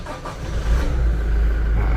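A Toyota Rangga concept truck's diesel engine cranks briefly and then catches, settling into a loud, steady low rumble nearby.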